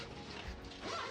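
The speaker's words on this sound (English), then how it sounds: "this enclosure zippers up, so you can zipper it closed if you have to" Zipper being pulled closed along the fabric door of a small animal playpen enclosure, a short continuous scraping rasp that rises slightly toward the end, fairly close and alone.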